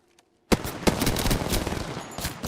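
Gunfire in the video game Apex Legends: a sudden burst of rapid automatic shots starts after a short quiet lead-in and keeps up as a loud, dense stream of overlapping reports.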